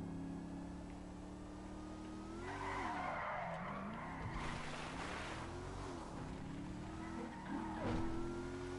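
A car in GTA 5 drives with a steady engine drone and long tire squeals as it skids and slides through turns, continuous and fairly loud with no talk.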